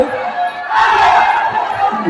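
A loud crowd cheers and shouts at a Thai boxing match, a surging wall of voices that swells midway and stays close and intense.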